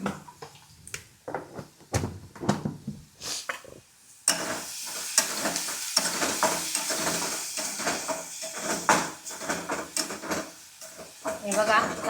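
Soybean chutney with turmeric and a little red chilli sautéed and stirred in a pan, with soft scraping strokes and a steady sizzle that grows louder partway through, close up, with someone speaking over it at times.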